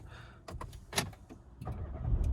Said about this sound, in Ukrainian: Двигун запускається дуже легко.